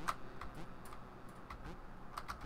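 A computer keyboard is typed on during game play, giving scattered, light tapping clicks in irregular bursts that stay close but fairly quiet against a steady background hum, with no one speaking.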